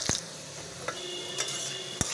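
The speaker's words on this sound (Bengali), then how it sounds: "বড়িটাও ভেজে নেব।" Kolai (urad) lentil bori frying in hot oil in a home kitchen, a steady soft sizzle broken by a few sharp clicks and utensil taps against the pan, with no talking.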